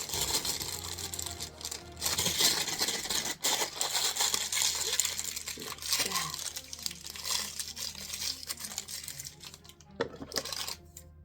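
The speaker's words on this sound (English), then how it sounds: "Everyone know how to roll up a pastry bag?" A plastic pastry bag crinkles and crackles as it is rolled up, in uneven bursts close to the microphone that continue on and off for several seconds, with a voice speaking now and then.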